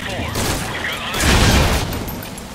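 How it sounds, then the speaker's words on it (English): A heavy explosion in Metal Gear Solid V: Ground Zeroes swells into a loud, broad rumble that peaks and slowly fades, with game noise before it. "Explosion spotted."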